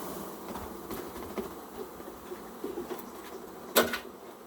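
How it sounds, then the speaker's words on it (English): Bees shaken off a hive frame give a steady, faint buzzing hum with scattered knocks and one sharp bump near the end. "I'm going to just shake these bees off here."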